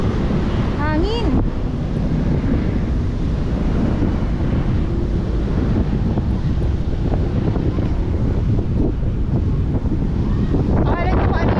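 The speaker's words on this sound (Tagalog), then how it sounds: "napakalakas ng hangin." Strong wind roars at a yacht club on Manila Bay, a loud, constant buffeting rush across the microphone that never lets up.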